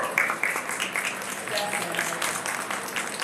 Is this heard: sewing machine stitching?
no